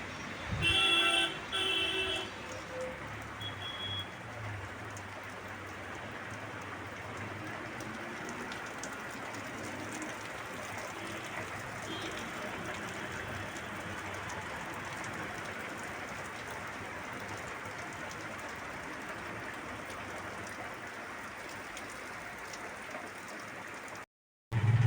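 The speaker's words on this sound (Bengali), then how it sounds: "বাইরে দেখো বৃষ্টি হচ্ছে প্রচণ্ড" Heavy rain falls outside, a steady dense hiss lasting throughout, fairly faint and even, with a few brief louder bumps at the start and end.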